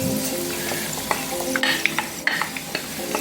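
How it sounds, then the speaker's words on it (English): Fresh onions and scallion hit a pan of Jamaican pepper pork stir-fry, giving a loud, bright sizzle with quick clattering stirs and scrapes. "Alright, I'm going to put my onions and my scallion."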